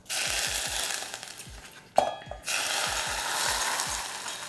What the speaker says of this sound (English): you want that sizzle so it just lightly cooks the ginger and scallions